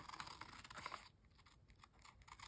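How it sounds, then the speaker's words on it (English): Scissors snip and trim a paper journal page in quick, close, quiet cuts, a rapid crunchy rustle of blade on paper with no talk. "let's grab our scissors. And I'm going to"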